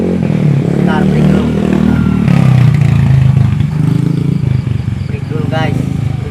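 A motorcycle passes close by with its engine revving, a steady loud rumble under people talking throughout.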